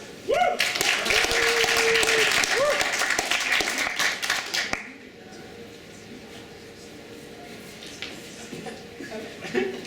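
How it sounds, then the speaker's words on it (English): An audience claps and cheers for a comedian at a college comedy show, a loud burst lasting about four seconds before stopping abruptly, followed by quieter room noise and faint talk. "please give a big round of applause to Rachel Lackner."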